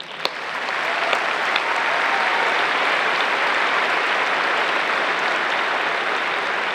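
Sustained applause from a graduation audience welcoming a speaker to the podium, steady and full throughout with no talking.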